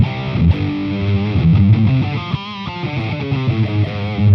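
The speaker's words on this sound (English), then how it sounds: "But let's go back over to boost and let's go to distortion" Electric guitar played through a Boss Katana MkII amp on its distortion setting, thick and saturated, with sustained chords and chugging riffs at a steady, loud level with no talking.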